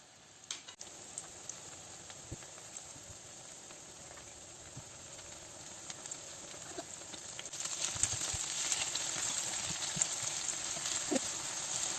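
Minced meat cutlets sizzle steadily in hot oil in a pan, a continuous close frying hiss that swells louder partway through with crackling pops.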